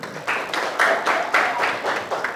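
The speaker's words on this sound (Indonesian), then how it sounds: "beri tepuk tangan" Applause from a classroom of students, a sustained burst of rhythmic clapping filling the room for a couple of seconds, fairly close and loud.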